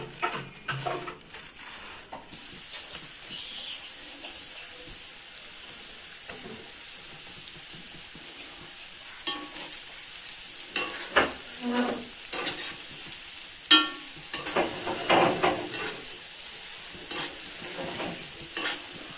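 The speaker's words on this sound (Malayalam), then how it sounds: "ആദ്യം ഇടുമ്പോൾ നമുക്ക് ലേശം ഇങ്ങനെ ഒന്ന് ഇളക്കി കൊടുത്തേക്കണം." Popcorn chicken pieces coated in flour, egg and oats frying in hot oil, a steady sizzle with scraping stir strokes and clinks of a utensil against the pan, close and continuous.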